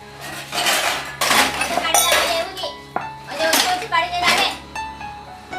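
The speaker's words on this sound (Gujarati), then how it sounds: "લે જલ્દી એ કામ કરને પેલી વાસણ હજી માંજવાનું બાકી છે" Steel dishes, pots and utensils clatter and clink repeatedly as they are scrubbed and handled in a home kitchen, loud and close, with a voice talking over the washing.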